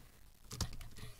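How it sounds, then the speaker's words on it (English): A quick burst of several keyboard keys clicking close by, light taps in a short irregular run. "I don't like the way you're pressing my keyboard."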